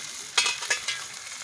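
Fish frying in oil in a village outdoor kitchen, a soft crackling sizzle with a few sharper spitting bursts, faint and close, with no talk.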